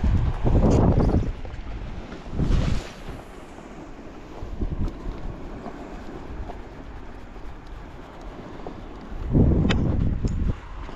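Wind gusting over a small fishing boat on open water during a pike outing, rough broadband buffeting that swells loudly at the start, briefly around three seconds and again near the end, with a steady rushing bed in between.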